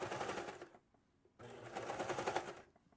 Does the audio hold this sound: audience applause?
no